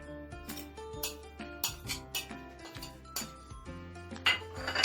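Spinach, black pepper, chili flakes and cheese being stirred together in a bowl for rose börek filling, with a string of close clinks and scrapes of utensil against the bowl in an irregular rhythm, no talking.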